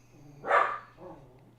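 A single dog barks once indoors, fairly faint, followed by a softer second yelp, over a low steady electrical hum.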